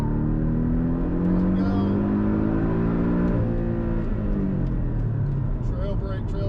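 A Porsche 718 Cayman S engine held in second gear on a race track, revving loud and close with rising and falling pitch, while a driver talks over it.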